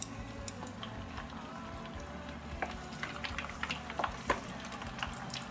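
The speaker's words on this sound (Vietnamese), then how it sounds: "Và bây giờ mình chiên." Oil sizzles and crackles steadily in a pan as salted chicken fries, with scattered sharp pops and spits rising toward the end; no one speaks.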